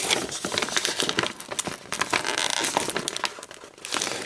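Adhesive tape peeled and torn off a package of cards: close, busy crinkling and crackling with quick rips and rustles that run steadily through the moment, with no talking.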